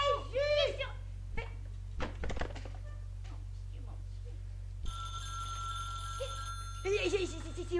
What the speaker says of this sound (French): C'est le téléphone à moi